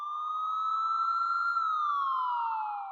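A police car siren effect wails steadily at close range for three seconds, holding a high tone before sliding downward, with no talk over it.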